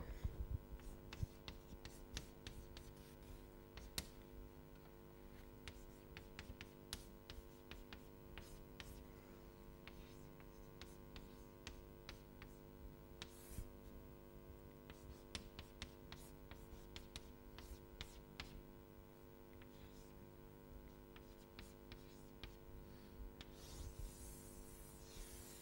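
Quiet scratching and rubbing strokes of a lecturer writing by hand, in short irregular bursts over a steady low mains hum in a silent room.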